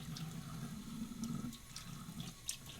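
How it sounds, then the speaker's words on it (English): Hot water poured from a cup onto a puck of Marvy shaving soap, a steady soft splashing trickle close by, continuous for a few seconds with light drips near the end. "I'll just put a little bit of hot water on top of the soap."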